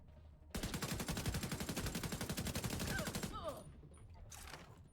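Rapid automatic gunfire from The Division 2 shooter game, a sustained burst of closely spaced loud shots for nearly three seconds, then stopping abruptly with a couple of faint trailing sounds.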